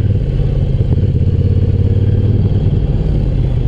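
A motorcycle's mid-pitched engine drones loud and close at steady throttle while the bike holds a constant-radius lean and the front brake is applied, with light mechanical clatter and no voices.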